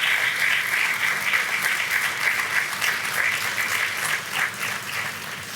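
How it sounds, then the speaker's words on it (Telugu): A church congregation applauds loudly and steadily, a thick wall of hand claps filling the room without pause and with no speech on top. "ఆ శిలువ మీద మన పాపమును మోసినందుకు అందరం గట్టిగా చప్పట్లు కొడదాం."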